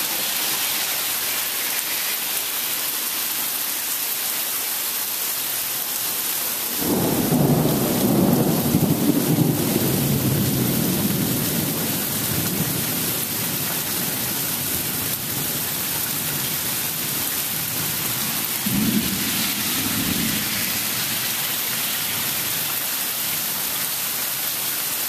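Steady heavy rain hisses throughout a storm as a deep rumble of thunder rolls in partway through, followed later by a second, shorter rumble.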